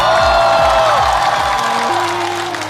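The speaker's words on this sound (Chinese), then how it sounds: "掌声送给亮亮" A television studio audience applauds in a sustained burst of clapping with some cheering, loud and close, while music plays underneath and then tapers off toward the end.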